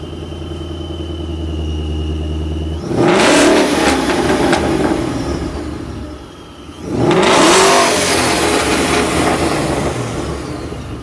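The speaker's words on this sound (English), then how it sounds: "This is a BBR mid-pipe and Corsa stainless exhaust." Ford Mustang fitted with a BBR mid-pipe and Corsa stainless exhaust, idling with a deep rumble, then revving hard twice in loud, close bursts, each dropping back toward idle between them.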